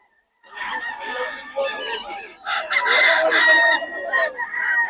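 Roosters and chickens crow and cluck together at a gamefowl yard in Bocaue, several overlapping close calls rising and falling over about five seconds, with no voices in the clip.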